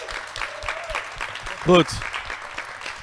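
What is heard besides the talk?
audience applause at a live podcast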